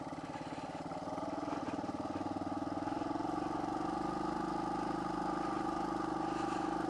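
A motorcycle rides along the backroads of Banos, Ecuador, held in second gear, its engine droning steadily and close, rising slightly in pitch and then running at an even, continuous hum throughout.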